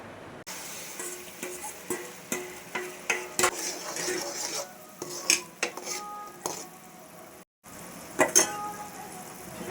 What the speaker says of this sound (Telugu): నెయ్యి ఇలా మెల్ట్ అయ్యాక ఇందాక వడకట్టుకున్న బెల్లం సిరప్ని ఇందులో వేసేసుకోవాలి